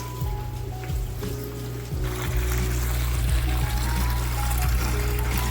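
Water siphons through a hose in a fish room as a continuous close pouring and trickling rush over a steady low hum of room equipment.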